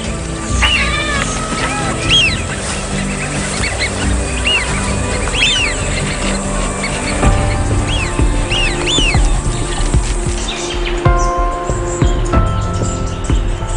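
Migrating birds gathered at a shallow lake call in a dense, overlapping chorus of rising, wailing cries, loud and continuous throughout.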